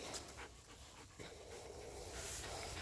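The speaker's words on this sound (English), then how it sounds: "You and your doggy breath." A dog pants rapidly and steadily up close, a soft rhythmic huffing breath that is quiet but continuous, with no talking over it.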